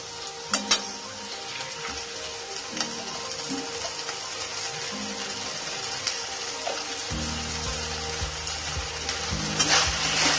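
A spatula stirs a pan of vegetarian banana flower curry (mochar ghonto) finished with ghee, giving a continuous soft sizzle with repeated scraping strokes over a steady background hum.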